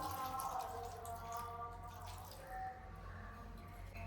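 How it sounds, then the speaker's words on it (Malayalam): A quarter cup of vinegar poured into cooling homemade mango pickle gives a soft, steady trickle of liquid for a few seconds, quiet and close, with faint kitchen hum underneath. "ഇതിലേക്കൊരു കാൽ കപ്പ് വിനാഗിരിയും കൂടെ ഒഴിച്ചു കൊടുക്കാം"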